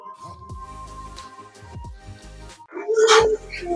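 Several dogs bark and yip on a coconut farm, sharp close barks coming in bursts, with a louder cluster of whining yelps near the end.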